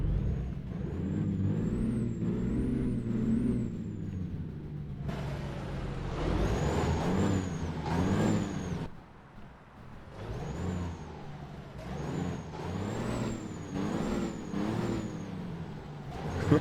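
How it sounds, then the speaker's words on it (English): A truck with air brakes idling and revving nearby, its engine rumbling in steady pulses while high whistling hisses come and go over it. "That truck sounds so good."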